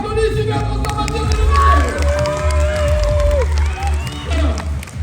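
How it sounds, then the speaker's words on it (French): An audience applauds and cheers loudly for Super Transformateur, with whoops and excited crowd noise, plus a few tonal cries rising over the clapping. "On applaudit Super Transformateur."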